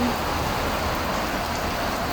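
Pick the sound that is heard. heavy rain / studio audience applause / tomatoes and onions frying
heavy rain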